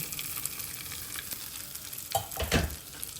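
Mint leaves frying in butter with a little vegetable oil give a soft continuous sizzle, quiet and close, swelling into a louder bubbling crackle near the end as the oil goes in, with no one talking.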